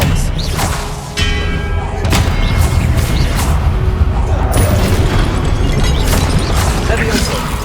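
The Expelliarmus disarming spell fires in the Hogwarts Legacy video game with loud booming blasts and heavy thuds over a dense, continuous layer of game effects.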